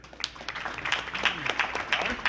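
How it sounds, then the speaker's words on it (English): Scattered, fairly light clapping from an audience welcoming a speaker to a pitch presentation, irregular claps rising and falling over a couple of seconds. "let's give a big round of applause for Spencer"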